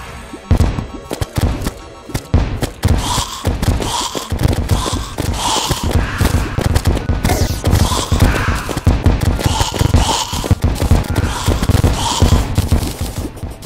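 Rapid bursts of gunfire from the Stinger weapon in Terraria crackle in dense, repeated volleys, loud and close, running almost continuously over a steady game soundtrack.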